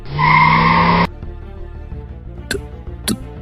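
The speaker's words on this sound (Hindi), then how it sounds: "उसने जोर से अपनी बाइक के ब्रेक लगाए।" A motorbike braked hard, giving a loud, harsh screech that lasts about a second and cuts off abruptly, followed by quieter background sounds and a couple of faint knocks.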